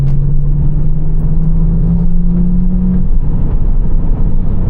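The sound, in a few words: BMW 325i E93 N53 engine with backbox delete, in cabin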